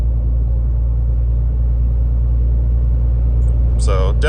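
Low, steady road rumble fills the cab of a Dodge RAM 2500 truck rolling over a rough, crappy road, with a continuous heavy drone throughout and a few brief higher rattles near the end.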